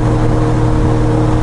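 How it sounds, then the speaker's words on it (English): Motorcycle engine fitted with an aftermarket Super Trap exhaust, idling with a steady, loud low rumble close by and no change in pitch throughout. "He's got aftermarket exhaust. I think it's Super Trap."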